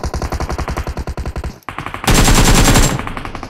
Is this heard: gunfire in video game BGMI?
yes